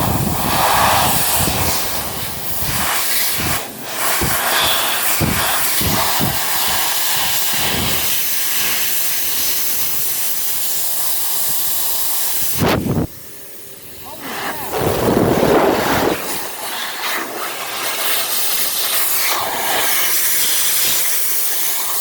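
Air blown through and dust sucked out of a PlayStation console, a loud, continuous rushing hiss with brief dips and bursts, close and dominant throughout.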